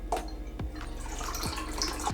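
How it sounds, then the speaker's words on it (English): Milk and water pour together into a bowl while making Jamaican hard dough bread from scratch, a steady close liquid trickle and splash with no voices. "I'm going to actually mix the milk and the water together."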